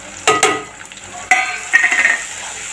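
Spices roasting with sliced tomato and onion in a pan, given a couple of close stirring scrapes and a brief sizzle, then a soft frying hiss that rises again near the end.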